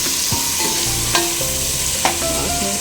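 Onions with plenty of mint and coriander stirred in a pan for chicken biryani, a loud continuous sizzle with a few sharp spatula scrapes and clinks.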